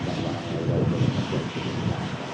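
Boeing 737-800 airliner with a 189-seat all-economy cabin on its takeoff roll at Manchester Airport, a steady, loud broadband jet engine roar with a low rumble, continuous throughout with no talking.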